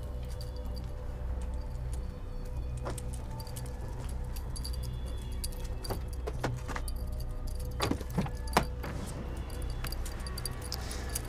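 Car keys jangle and clink in irregular bursts, quiet and close, over a low steady hum, with the sharpest rattles clustering toward the end.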